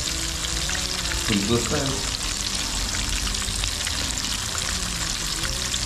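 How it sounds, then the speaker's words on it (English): Chili garlic prawns stir-frying in a hot pan, a loud continuous sizzle with stirring scrapes, while a voice speaks briefly over it. "So we still have to stir fry it."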